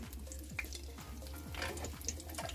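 Battered green chillies for mirapakaya bajji dropped into hot oil, a steady close crackling sizzle with soft bubbling and occasional light pops, quiet and without voices.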